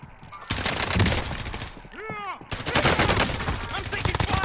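Dense bursts of rapid gunfire fill a Call of Duty Warzone firefight, loud and continuous, with a short lull midway where a rising whine cuts through before the shooting resumes.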